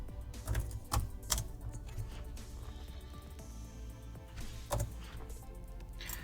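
Computer keyboard typing while entering text into a chatbot setup: a few quick, close key clicks in small bursts, with a quieter stretch between them.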